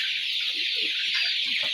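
A dense flock of about a hundred forty-day-old brown cockerels on a poultry farm, clucking and chattering in a steady, continuous crowd noise with no pauses.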